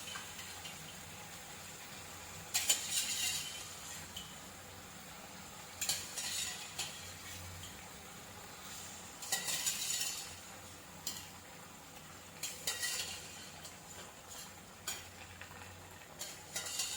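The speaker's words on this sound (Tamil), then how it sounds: "ஸோ இதையும் அது கூட போட்டு ஒன்றா வந்து மசாலா சேர்கிற அளவுக்கு நல்லா கிளறிக்கலாம்." A utensil stirs cauliflower and peas into masala in a pan for a cauliflower and pea kurma, with intermittent scraping bursts and light clinks over a soft background sizzle.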